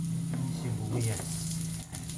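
Onion frying in hot oil in a pan, a continuous close sizzle with a low hum and occasional clinks of stirring.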